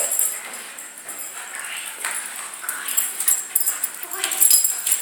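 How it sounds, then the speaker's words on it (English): Two dogs playing and wrestling on a slippery floor, with thin whimpers, yips and scrabbling paws at close range. Someone talks over the rough play throughout. "I think you'd have a nice couple dogs there"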